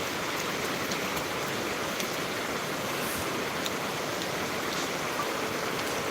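Rain falling in Tirunelveli, a steady even hiss of dense rainfall on surfaces, constant and moderately loud from start to finish with no voices.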